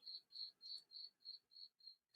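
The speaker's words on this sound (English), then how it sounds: "I hear crickets." Crickets chirp outside an open window on a hot day, a faint, regular series of high trills pulsing about three times a second, with a sudden click at the very end.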